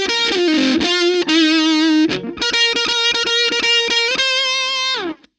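A lead line is played at full volume on an electric guitar through distortion pedals and effects, a loud, buzzing, fuzzy run of sustained and choppy notes that cuts off abruptly at the end.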